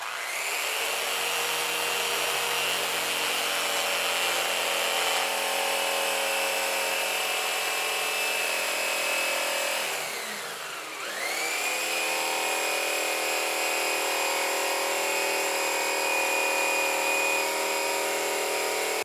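A power tool cuts a motorcycle windscreen on a 2020 Low Rider, a sustained high whine that dips in pitch briefly midway as it bogs, then returns, steady and close with no voices.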